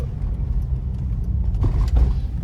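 Interior view of a BMW E46 four-cylinder car pulling away under acceleration, a steady close engine rumble with road noise swelling slightly toward the end, no talking heard.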